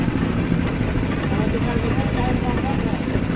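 A motor-driven sugarcane juice press runs at a busy Ramadan market stall in Palembang, a loud, steady engine rumble that continues throughout while people talk over it.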